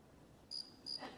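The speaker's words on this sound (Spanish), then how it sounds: "es un grillo del árbol de nieve" A snowy tree cricket chirps faintly, two short high-pitched pulses against a quiet background, with a soft rustle at the end.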